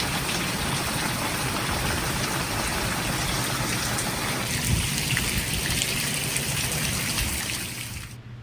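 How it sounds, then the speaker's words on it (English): Steady heavy rain falling in the desert, a dense continuous wash that stays loud throughout and thins slightly near the end, with no voices. "we like rain out here"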